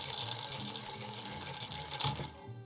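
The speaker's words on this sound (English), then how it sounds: "once the bobbin is full, the winder will automatically disengage" A hand-crank-converted, roughly 100-year-old Singer 99K sewing machine winds its bobbin with a steady, close mechanical whir and fine rattle, a brief louder clack near the end, then quieter running.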